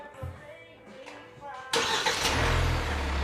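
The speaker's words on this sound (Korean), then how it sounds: "시동 걸어주세요" A facelifted Hyundai All New Tucson engine is started. Soft tonal sounds come first, then the engine cranks and catches abruptly into a loud, steady idle close by.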